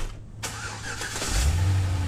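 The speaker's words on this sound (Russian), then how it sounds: "И машинка заводится." A car engine in the horror video game Emily Wants To Play Too cranks and turns over, then settles into a low, steady idle rumble, close and loud, with no voices.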